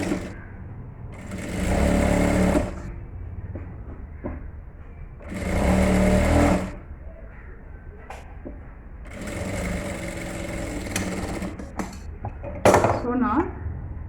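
A sewing machine stitches petticoat fabric in three separate bursts of rapid mechanical whirring, with quieter handling noises between runs.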